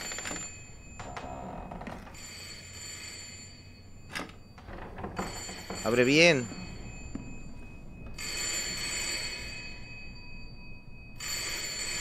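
A telephone in the horror game Layers of Fear rings in repeated bell bursts separated by pauses, alongside thuds and a warbling effect, and someone speaks briefly.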